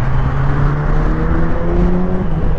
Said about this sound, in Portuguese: Meu, os galera tá tudo acelerando.